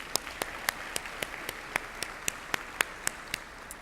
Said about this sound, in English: Yes, you can applaud her.